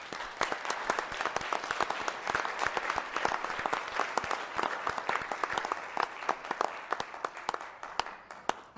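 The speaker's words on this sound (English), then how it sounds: "May we have an applause, please?" Council chamber audience applauds the Excelsior Eagles baseball team, 2015 CIF State Southern Section Division champions, with steady dense clapping lasting throughout at moderate distance, no voices over it.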